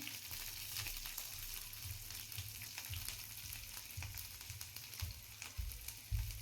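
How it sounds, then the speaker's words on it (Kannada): Ginger paste fries in a pan for fried rice, giving a steady close sizzle with occasional louder bursts as it is stirred. No voices are heard. "ಈಗ ಸ್ವಲ್ಪ ಶುಂಠಿ ಪೇಸ್ಟ್ ಹಾಕ್ತಾ ಇದ್ದೀನಿ."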